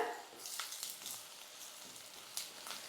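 Onions with red masala, salt and chili sizzle and fry in a pan for onion chutney, a soft continuous crackle with faint scraping stir strokes, close and alone.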